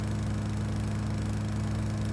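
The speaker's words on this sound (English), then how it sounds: "Lawnmower, engage." A lawn mower engine in the video game Rising Star 2 drones steadily with a low, buzzing, even hum throughout, no talk over it.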